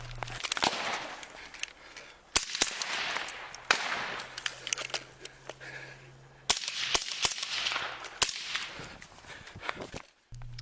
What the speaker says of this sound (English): Using the police department's service rifle, the officer engaged in a gun battle with the suspect.